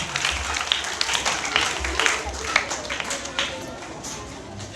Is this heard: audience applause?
yes